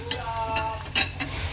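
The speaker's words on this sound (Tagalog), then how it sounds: "Parang kumukulo talaga ulit yung chicharon." Chicharon frying in hot oil gives a steady bubbling sizzle under occasional scraping stirs that come in short bursts, close and moderately loud, with no talking.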